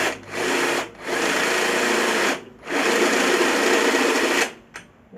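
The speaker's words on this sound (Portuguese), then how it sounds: "Agora vou dar uma escariada, porque o parafuso é de cabeça chata." An 8 mm drill bit countersinks a screw hole for a flat-head screw during a band saw repair, heard as three sustained, close grinding bursts separated by short pauses.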